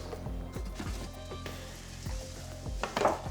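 Beef fillets searing in a hot pan for beef Wellington, a steady sizzle punctuated by clicks and knocks of handling, moderately quiet and close, no talk.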